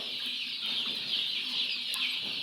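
Free-range country hens cluck softly while eating neem leaves. Short, fairly quiet clucks sit over a steady outdoor hum.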